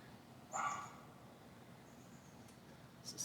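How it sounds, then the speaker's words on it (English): Dogs yip and bark faintly in the background indoors, a short distant burst followed by a couple more small yelps over low room noise. "we got dogs in the background too"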